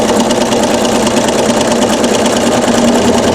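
A sewing machine runs loud and continuous in a steady mechanical hum while free-motion quilting a round wreath feather design, with no pauses and no talk.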